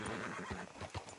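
A horse neighs up close in the game Red Dead Redemption 2, a loud whinny with a couple of hoof clops, alone without talk.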